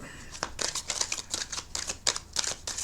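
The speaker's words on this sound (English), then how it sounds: "One more shuffle, one more rifle." Rapid crisp card riffles repeat in quick bursts, the flutter of a deck being shuffled close by with no talking.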